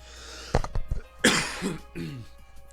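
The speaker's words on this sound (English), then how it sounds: "That was a tough cough." A single close, harsh cough bursts out, followed by throat clearing and a short rough catch of breath, heard alone in a quiet room.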